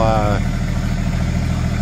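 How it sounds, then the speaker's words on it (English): A blue Bombardier narrow gauge machine engine warms up at a steady idle, a loud low rumble heard close with a brief tonal whine at the start and a voice talking over it. "He's just warming up the engine."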